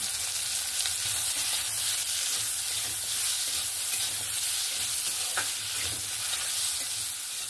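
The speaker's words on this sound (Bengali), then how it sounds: "আলু আর উচ্ছেটা ভেজে নেওয়ার সময় আমি একটু হলুদ, একটু লবণ দিয়ে দেব।" Potato and bitter gourd strips fry steadily in oil with turmeric and salt, giving an even, continuous sizzle with occasional soft stirring scrapes throughout, close and unbroken by talk.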